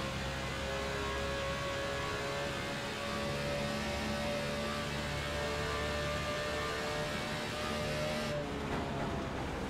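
A NASCAR Car of Tomorrow stock car engine runs in the iRacing sim, using its old legacy sound files. It is a faint, constant low droning hum that holds steady with little change in pitch, and no one speaks.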